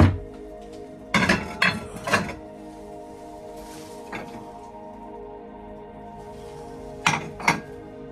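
Riga-made crockery clinks and clatters as it is handled in an abandoned apartment, in a few short bursts of close, bright knocks separated by quiet pauses.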